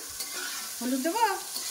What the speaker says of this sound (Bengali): দিয়ে দিচ্ছি বিরিয়ানি মশলা, এবার এটাকে আর একটুখানি ভাজা করে নেব।